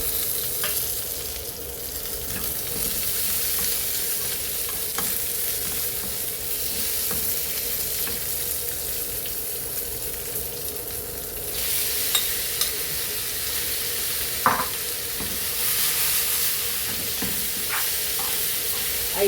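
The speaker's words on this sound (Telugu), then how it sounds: "ఇవన్నీ వేసి తాలింపు చేసుకుంటే అయిపోయింది" Spices for a Kerala-style tempering fry in hot oil, giving a constant close sizzle and crackle for the whole stretch with a few faint utensil clicks.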